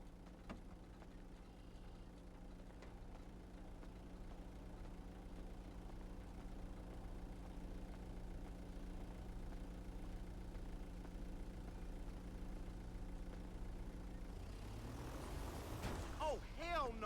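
A vehicle engine in the FiveM video game idles with a low steady hum, then rises in pitch as the delivery vehicle arrives near the end, quiet throughout.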